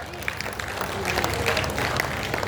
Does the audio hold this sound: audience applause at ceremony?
yes